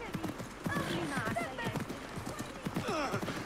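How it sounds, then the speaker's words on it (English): Horse hooves clip-clop at a quick gallop in Assassin's Creed Mirage, steady and fairly close, under game music and voices talking. "Now we got horses."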